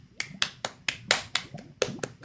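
A short run of about eight sharp claps or snaps, evenly paced and close, with no talking.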